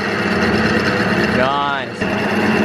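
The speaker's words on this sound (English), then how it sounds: "of the lathe, which is this thing, is spinning this automatically and feeding the cutting tool into the workpiece." A metal lathe turns a UHMW rudder bearing for an aluminium sailboat while the cutting tool feeds automatically, producing a steady, loud machine drone with a brief rising-and-falling cutting squeal near the end.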